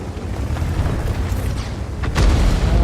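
Tank ammo rack explosion in World of Tanks, a sudden heavy boom near the end that follows a stretch of rumbling battle noise.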